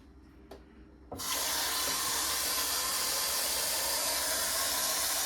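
Water poured into the reservoir of a Philips coffee machine, a sudden loud steady splashing rush that starts after a brief quiet moment and continues close up.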